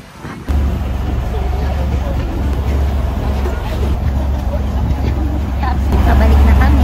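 A loud, steady low drone of a bangka boat engine runs throughout after a brief quiet start, with faint voices and water-like noise in the background, on a tour in Cebu and Bohol.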